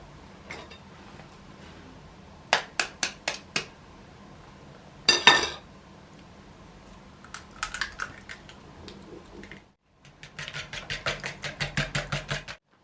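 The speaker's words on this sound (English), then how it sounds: "Beat the egg." An egg is beaten in a bowl for rich iced biscuits, with quick bursts of rhythmic clicking taps of a utensil against the bowl, separated by pauses and ending in a longer steady run of strokes.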